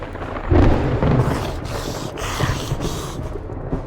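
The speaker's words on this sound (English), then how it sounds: "you can hear some very ominous sounding thunder" Ominous thunder in the survival game 7 Days to Die rumbles low and heavy, rolling in a couple of deep swells with a faint patter like rain beneath, no voices present.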